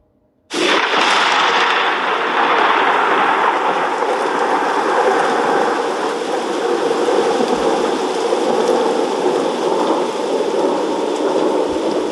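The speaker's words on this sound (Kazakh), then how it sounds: "бұл найзағайдың дыбысы." A lightning storm bursts in with a sudden loud thunderclap, then a sustained heavy roar of thunder and pouring rain that stays loud and dense to the end.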